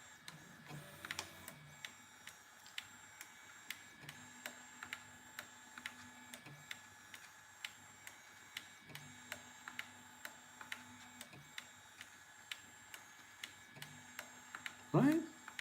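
An Easythreed X1 3D printer at work, giving off faint, regular ticks and clicks at a steady rhythm over a low mechanical hum, with a louder burst near the end.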